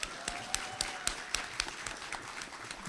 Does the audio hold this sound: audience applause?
yes